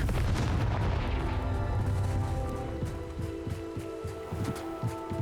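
A Confringo fire spell explodes in the Hogwarts Legacy game with a loud, deep boom that fills the start and then rumbles down, followed by a rapid fluttering crackle that fades.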